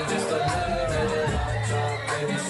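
Young crowd packed into a Hyderabad club, a dense wash of babble, whoops and shouts over thumping low music, steady and close throughout.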